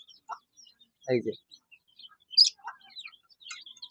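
Young desi chicken chicks give scattered high chirps and peeps at close range, with a brief lower cluck-like burst and a short spoken phrase in between.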